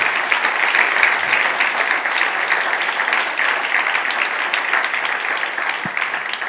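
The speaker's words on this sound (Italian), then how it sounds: "un applauso può condire questo" Applause from the audience at a talk fills the space with steady, dense clapping that holds evenly throughout, with no voices over it.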